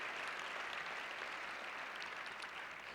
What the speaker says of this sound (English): We all deserve a resounding applause